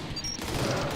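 SMG gunfire in a zombie video game rattles out as a dense, continuous burst of rapid shots, loud and sustained throughout with no pause.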